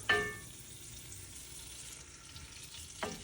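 Sticks of butter melt in a pan over low heat, giving a soft, steady sizzle and faint crackle. A light clink of a utensil sounds at the start and again near the end.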